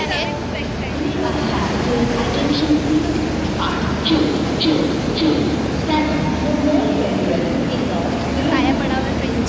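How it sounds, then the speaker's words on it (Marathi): Passengers board a crowded train on a family trip, with a steady rail rumble, occasional metallic squeals and clanks, and several people talking throughout. "आता आम्ही ट्रेनमध्ये चढतोय"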